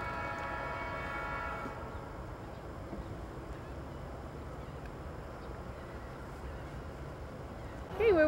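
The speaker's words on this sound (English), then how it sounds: "we're watching the train." A train rumbles past at a steady, low level, with a horn sounding at the start that fades after about two seconds, then a broad rolling rumble continues. A short sharp sound rises at the very end.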